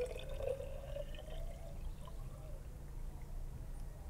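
Rainwater is poured out of a rain gauge on a tropical homestead, making a continuous close splashing and trickling pour that runs for several seconds with a faint tonal ring at the start.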